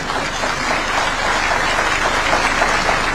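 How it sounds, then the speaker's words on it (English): A large audience applauds steadily throughout a university graduation ceremony in Kisumu, a dense, loud, unbroken wash of clapping. "A better round of applause for him."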